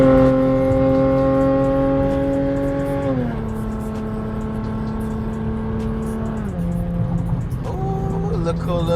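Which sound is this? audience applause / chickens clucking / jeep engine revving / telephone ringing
jeep engine revving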